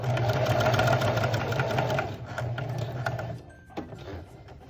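A sewing machine stitches a back lining piece of fabric for a mini dress bodice, a fast steady mechanical whir that runs loud for about three seconds, then slows and stops with a few soft clicks.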